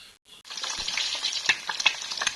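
An egg frying in a hot pan, with bright crackling sizzle and scattered pops rising after a brief quiet start, close and fairly loud with no talk.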